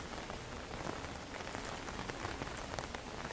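Steady rain patters densely on surfaces in a horror video game, a constant close hiss of drops with no voices.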